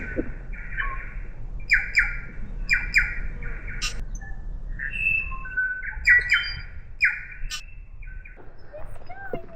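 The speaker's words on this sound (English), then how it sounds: "Listen to a little bit of birds singing." Birds squawk and chirp in repeated bright bursts near a beach road, fairly close and clear over low background rumble.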